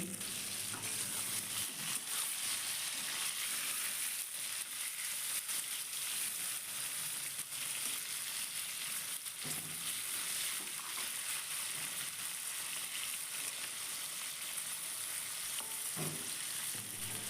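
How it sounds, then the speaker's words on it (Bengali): Prawns fry lightly in a pan for a malai curry, a soft, steady sizzle with occasional faint stirring knocks, heard quietly throughout. "এবারে চিংড়ি মাছগুলো দিয়ে হালকা করে ভেজে তুলে নেব"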